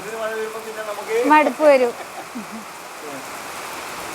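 Steady rain falls during a family evening, a soft continuous hiss running beneath people talking nearby.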